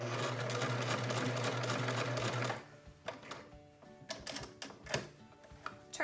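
A sewing machine stitches a surgical cap, its loud, steady rapid run stopping abruptly partway through, followed by scattered clicks and handling noises as the fabric is lifted and turned.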